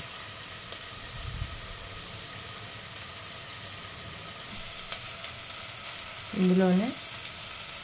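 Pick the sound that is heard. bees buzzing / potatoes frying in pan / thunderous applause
potatoes frying in pan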